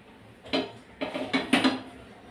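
Oil is spread around a frying pan for chicken seekh gravy, with a few close metallic scrapes and clinks of a utensil against the pan in quick bursts and no voices.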